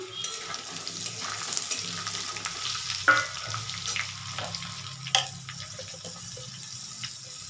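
Potatoes fry with whole cumin in a pan, giving a soft, steady sizzle broken by a few louder clatters and stirring knocks, with no talk over it.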